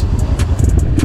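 A Honda CRF 250 motorcycle engine rumbles steadily at close range on a road ride, a low, loud, continuous drone with a few faint higher ticks on top and no talk.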